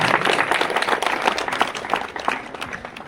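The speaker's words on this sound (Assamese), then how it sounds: "প্ৰতিগৰাকী ছাত্ৰ ছাত্ৰীক কাৰণে পুনৰবাৰ ডাঙৰকৈ হাত চাপৰি বিচাৰিছোঁ সকলোৰে পৰা" A school audience gives dense, steady applause for students being honoured at an awards ceremony, a close, continuous wash of many hands clapping with a few sharper claps standing out.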